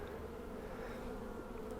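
A dense, steady hum of Italian honey bees comes from an opened spring hive, continuous and close, with no voices.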